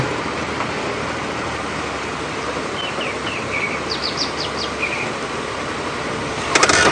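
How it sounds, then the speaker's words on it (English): A short series of thin, high notes from a white-throated robin rises and falls over a steady background rush, faint and somewhat distant. "I think it's one of these little white-throated robins"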